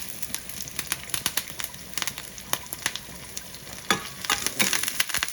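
Shallots sauté in a hot pan for a Kerala-style duck curry tempering, giving a steady close sizzle and crackle with scattered sharp pops and stirring scrapes, no voices.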